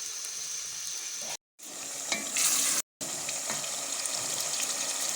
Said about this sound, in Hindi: हम इसमें 1 गिलास पानी को ऐड करेंगे।